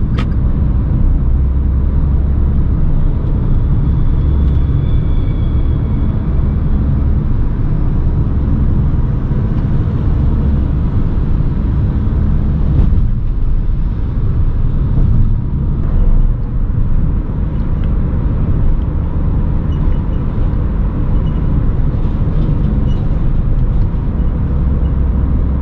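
A Toyota Raize's engine holds a steady drone in fourth gear at about 2,800–3,000 rpm, with a continuous low rumble and road noise filling the cabin evenly and loudly throughout, and no talk.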